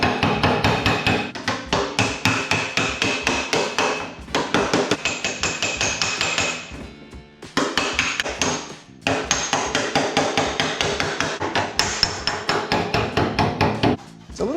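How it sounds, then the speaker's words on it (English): Rapid, steady metallic blows of a hammer on a dolly, straightening a wonky Galant Coupe body panel, ring out in quick bursts, close and loud, with a short pause midway before the pounding resumes. "I might have a go at sort of straightening this out with the hammer and dolly"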